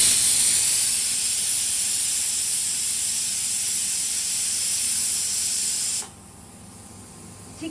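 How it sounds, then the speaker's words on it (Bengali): Pressure cooker whistle hissing loudly as steam escapes while mutton keema cooks, a steady sharp hiss lasting about six seconds before cutting off abruptly to quiet. "কুকারে পড়ছে সিটি"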